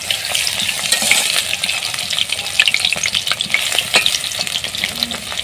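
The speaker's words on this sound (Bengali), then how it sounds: "এভাবে উল্টিয়ে পাল্টে আমি 2 পিঠ ভালো করে ভেজে নিচ্ছি।" Helencha greens fritters fry in hot oil in a pan, giving a steady, close sizzle and crackle with occasional sharper pops throughout, and no one speaks.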